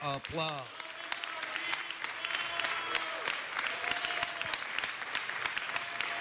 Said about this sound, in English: Give Ms. Martinez a round of applause